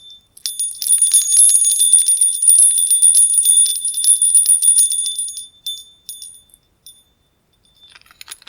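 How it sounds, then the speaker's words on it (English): Small metallic bells jingling and tinkling together, bright and close, shaken steadily for several seconds before trailing off into a few scattered chimes. "choice number 3 will be our Om bells."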